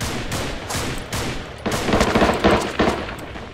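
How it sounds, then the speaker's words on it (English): Gunfire in the psychological thriller game The Apartment, a rapid run of loud, close shots in uneven bursts that grows denser toward the end. "Who's shooting me?"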